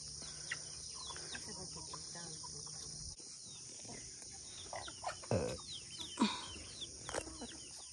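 Farm chickens cluck in scattered short bursts against a constant high chirring of crickets, with a few louder clucks and rustles toward the end.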